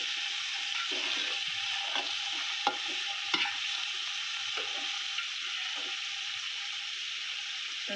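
Carrots and yardlong green beans stir-frying in a pan for fried rice give a steady, close sizzle throughout, punctuated by a few sharp scrapes and clinks of the spatula.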